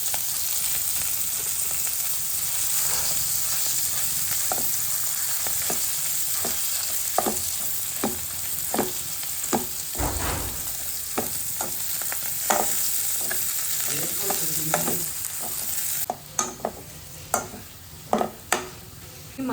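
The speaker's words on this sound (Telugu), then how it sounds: "సిమ్లో పెట్టి ఫ్రై చేసుకోవాలి." Bitter gourd pieces, first boiled in buttermilk, fry in oil on low heat with a steady close sizzle, punctuated by frequent sharp clicks and spatula scrapes as they are turned.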